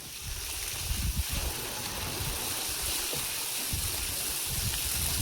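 Water from a pump motor gushes and splashes into a village well, a steady rushing pour with small rumbling surges, fairly close and unbroken, with no voices.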